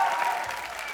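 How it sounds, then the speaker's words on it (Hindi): A TV studio audience at a comedy show applauds loudly in a dense, continuous burst with no break across the short moment. "जोरदार तालियों से स्वागत कीजिए रवि दुबे और आशा नेगी का"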